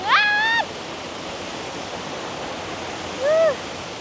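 Steady, dense rush of the Yeh Ho waterfall at Jatiluwih fills the whole stretch at close range, with brief high whistling squeals at the start and again near the end.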